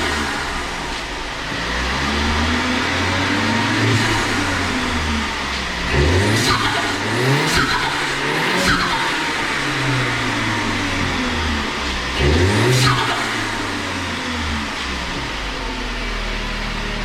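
The engine of a 2019 VW Tiguan with a cold air intake fires up and is revved several times, pitch climbing and falling in repeated sweeps over a steady idle, fairly close and loud, with turbo sounds.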